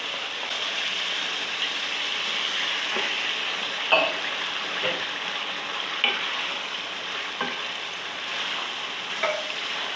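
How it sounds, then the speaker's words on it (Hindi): Minced meat frying with masala in an open pan for an aloo matar qeema, a steady crackling sizzle throughout with occasional louder pops and stirring scrapes, no talking. "और अच्छी तरह कीमे को भी भून लेती हूँ।"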